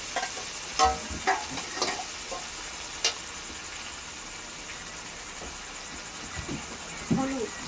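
Onions and spices, including ginger-garlic paste, chilli paste and Kashmiri chilli powder, fry in a pan with a soft steady sizzle, broken by occasional scraping and tapping from a stirring spoon, close and fairly quiet.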